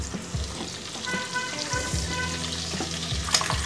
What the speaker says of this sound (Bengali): আমি জাস্ট একটু নুন দিয়ে ডিমটাকে ভালো করে ভেজে নিচ্ছি প্রথমে